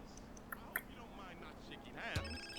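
A cell phone rings in the video game GTA San Andreas, a tonal ringtone sounding near the end beneath game noise, with speech and whispering heard before it.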